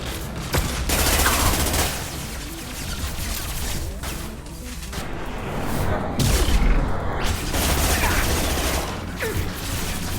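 Rapid gunfire and heavy impacts in the action game Mass Effect 2, dense overlapping bursts with booms and mechanical clatter, loud and continuous throughout.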